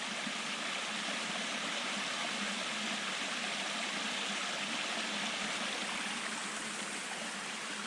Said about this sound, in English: I wouldn't call this a waterfall, I guess this is a cascade